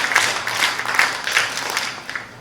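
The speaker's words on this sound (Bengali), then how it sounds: "সবাই মিলে আমরা একটা হাততালি দিই তাদের জন্য।" An audience claps together for Bangladeshi scouts at a gathering, a fairly loud burst of applause with pulsing clusters of claps that thins toward the end.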